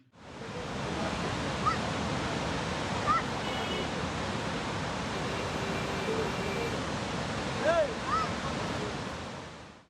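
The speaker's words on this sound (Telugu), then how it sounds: "10 గేట్స్ అయితే ఓపెన్ చేశారు అండ్ చాలా ప్రెషర్గా వాటర్ అయితే ఫ్లో అవుతుంది" Powerful rushing water from ten opened gates of the Srisailam Dam after days of heavy rain, a dense continuous roar with wind buffeting the microphone and faint voices in the background.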